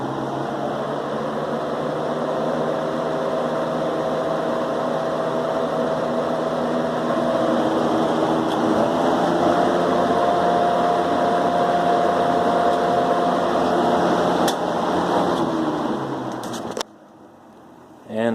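A vintage Sears 81310 box fan runs on medium with a loud, steady whooshing drone and a faint tonal hum, then cuts off abruptly near the end.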